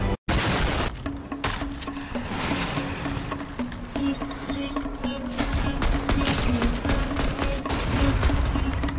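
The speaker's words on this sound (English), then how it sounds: "I'm just hearing bombs." Bombs explode in the Fortnite video game, a loud, busy barrage of booming and crackling blasts in rapid succession that keeps going over a steady droning tone, with no one talking.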